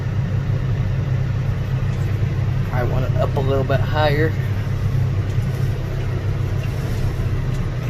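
John Deere 6115R tractor drives along spraying weeds with a home-made sprayer. Its steady, close diesel drone runs throughout while someone speaks briefly over it.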